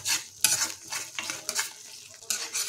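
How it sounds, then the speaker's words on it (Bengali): Spice powders and cashew-melon seed paste sizzle and fry in a hot wok, with repeated scraping strokes of a spatula stirring the mixture in a steady close rhythm. "সমস্ত মশলা গুঁড়ো মশলা যোগ করছি, এগুলোটাকে আমরা মিনিট 5 ধরে লো ফ্লেমে কষাতে থাকবো।"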